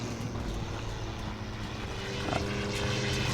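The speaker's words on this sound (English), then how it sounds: "It's the sound of the planes. They're very loud." Loud propeller aircraft drone steadily overhead in the game Forgotten Hope 2 on the Peleliu map, a continuous roar that swells slightly louder toward the end, with no voices.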